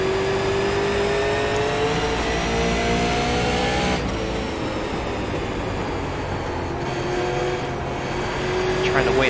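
A super late model race car engine drones in the iRacing simulator, a loud, steady motor note whose pitch rises and falls gently as the throttle is eased and reapplied through the corners.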